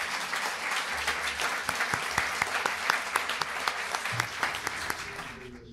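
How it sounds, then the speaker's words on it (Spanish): Audience at a Spanish-language talk on beef and climate neutrality applauding a professor, a fairly quiet, even stretch of many hands clapping with a few sharper individual claps standing out. "Agradecemos con un aplauso al profesor Frank Millener."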